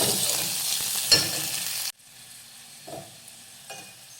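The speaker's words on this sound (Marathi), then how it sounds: "आता हा टोमॅटो परतून घेऊयात" Chopped tomato sizzles in a hot pan with a stirring scrape, then the sound drops sharply to quiet, broken by a couple of soft stirs.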